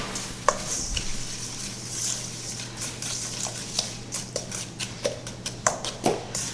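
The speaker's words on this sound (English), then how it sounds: "add the oil with the brown sugar, and I'm going to mix those together to make sure that they're fully incorporated." Oil and brown sugar are stirred together in a bowl, a spoon making quick rhythmic scrapes and taps against the sides that grow busier toward the end, close and clear with no talking.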